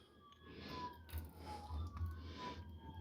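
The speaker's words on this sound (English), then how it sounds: "Fire trucks or ambulance going by." A fire truck or ambulance siren passes at a distance, its wailing tone rising and falling steadily over a low background rumble, faint and unbroken throughout.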